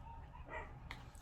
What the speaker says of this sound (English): you could probably hear the dogs barking in the background.